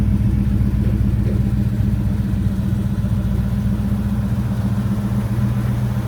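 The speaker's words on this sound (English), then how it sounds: "Nice mellow sound, goes down the road unbelievably well." A 1973 Mercury Cougar XR7 convertible with a 351 Cleveland V8 cruises down the road, a steady, mellow low engine drone with constant road noise and no talking.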